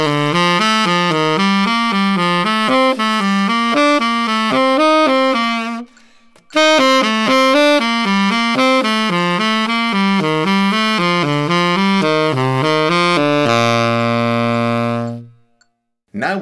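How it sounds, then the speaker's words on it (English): Saxophone plays the major scale in triads, rapid arpeggiated notes rising through the scale, a brief pause, then a second run ending on a sustained low note; close, loud and unaccompanied. "Next phase is to play the major scale in triads."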